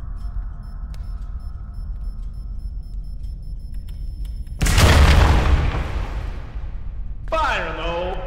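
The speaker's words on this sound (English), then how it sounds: "So you put some dynamite down, it'll work. It's gonna blow!" In the video game Forewarned, dynamite blows up a wall: after a quiet stretch, a sudden loud boom bursts out and rumbles away over a couple of seconds, followed by a warbling, wavering voice-like cry.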